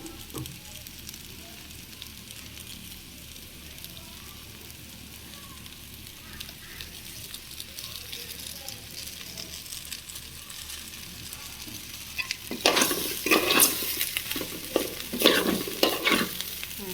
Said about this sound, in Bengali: ভাজা হচ্ছে চাল